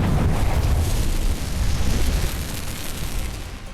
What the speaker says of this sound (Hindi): इसके बाद जहाज में कई विस्फोट हुए